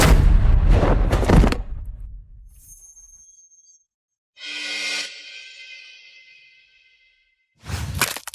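Gunfire bursts in a film fight scene: a loud heavy blast at the start, a sharp whooshing shot midway, and another loud burst at the end, separated by near silence.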